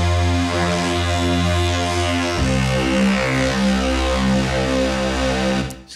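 A gritty synth bass with a razor effect adding angry distortion plays a loud, sustained, buzzing line that shifts pitch partway through and then fades at the end, with no voices.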